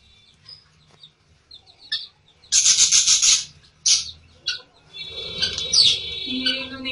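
Pet birds kept upstairs in a home chirp and tweet close by, with scattered short calls and then a dense burst of bright chattering, and a few clucking notes mixed into the quieter gaps.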